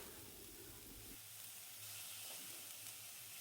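Ginger garlic paste and spices fry over a low-to-medium gas flame in a pan with a dense, steady hiss and sizzle, and no one talking.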